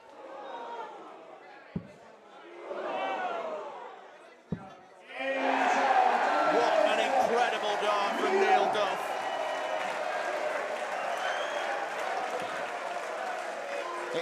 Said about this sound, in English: It's a round of applause that Jason Brandon did not want to give.